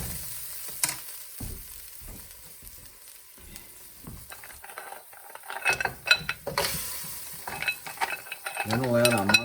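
A spoon stirs a splash of Chardonnay white wine in a hot pan, soft scraping and clinking with a faint sizzle rising toward the end, close and fairly quiet.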